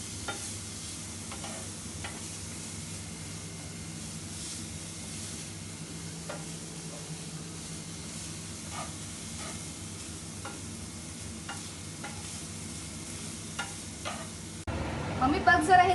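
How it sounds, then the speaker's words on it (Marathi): Jaggery melting in a pan over a low flame while being stirred, with a soft, steady sizzle and occasional scrapes of the spoon. It ends in a brief louder clatter near the finish. "हे गुळ वितळायला किती वेळ लागेल? 5 मिनिटं लागतील. मंद आचेवर जरा."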